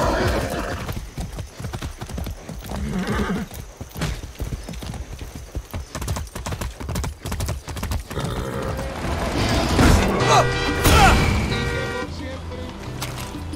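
Horse hooves clip-clop in a steady rhythm, joined by whinnying neighs toward the end, with music and other sounds mixed in around them.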